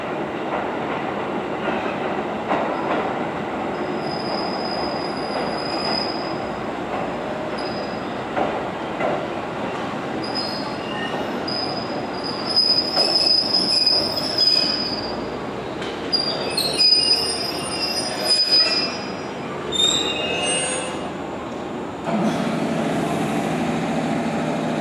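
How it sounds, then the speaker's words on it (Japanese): A train pulls out of a Japanese station platform toward the depot, its wheels squealing sharply in repeated high screeches over a steady rolling rumble and faint clicking. "番線停車中の列車は車庫へと入ります。"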